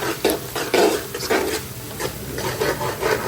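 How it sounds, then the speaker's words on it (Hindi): A spoon scrapes and rubs in a rhythmic, repeated motion through onions frying golden brown in a pot for a Hyderabadi beef biryani, close and steady with a soft sizzle underneath and no talk. "थोड़ा सा चम्मच चलाते हैं इसमें"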